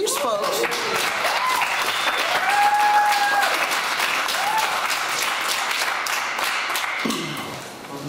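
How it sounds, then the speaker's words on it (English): A crowd applauds during a speech on farming freedom, sustained steady clapping with a few whistles and cheers, tapering off near the end as a speaker begins again. "Does the clapping take off my time?"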